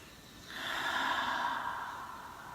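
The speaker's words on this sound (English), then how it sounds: "Take a long breath." A long slow breath drawn in and released, a soft airy rise and fall lasting a couple of seconds, close and alone.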